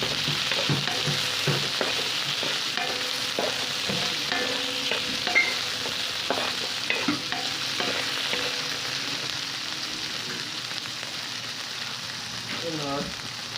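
Shrimp stir-fried in a pan for nasi goreng Pattaya, a steady close sizzle with repeated scraping and stirring strokes throughout, faint voice now and then.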